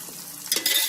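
Shrimp dropping into a frying pan of onions and grated cotija cheese, a brief burst of sizzling and utensil scraping that swells loudly near the end.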